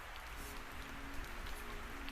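Rain falls softly outdoors as a faint, steady, even patter with no other distinct sounds.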